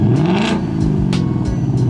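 A Mach 1 Mustang with a new exhaust setup and stock mufflers revs hard nearby, its loud throaty engine rising and falling through several quick blips over two seconds.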